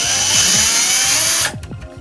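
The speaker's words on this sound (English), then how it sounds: "Just unscrewing it." A power screwdriver whirs in short bursts while unscrewing the casing of an Xbox 360 Slim, the motor winding down and pulsing as the screw releases, loud and close.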